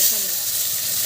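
Chili frying in hot oil for a spicy chicken curry gives a steady, close sizzling hiss that stays even for about a second.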